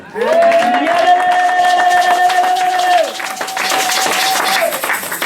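A church congregation acclaims the Lord: a loud, sustained voiced cry rings out over clapping and crowd noise, then the applause and cheering carry on after it breaks off.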